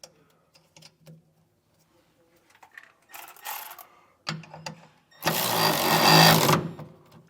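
Air helper spring bolts on a 2020 Ram truck tightened down with a power tool during a Firestone Ride-Rite install; a loud, steady buzzing whir of the tool runs for about a second near the end, after shorter bursts and scattered clicks.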